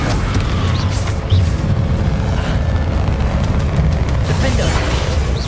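Fire-spell explosions in the PS5 game Hogwarts Legacy, a steady dense rumble of booms and bursts under heavy game noise, with a louder thump near the start.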